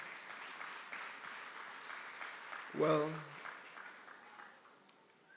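An audience at a national vaccination campaign launch ceremony applauds in steady, sustained clapping throughout, while someone briefly speaks over it near the middle.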